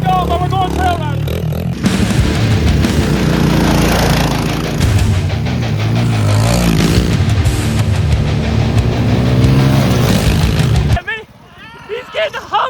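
Minibikes ride along a trail on Minibike Island, their small engines droning loud and steady for about eleven seconds, mixed with voices, before cutting away to quieter, patchy sound.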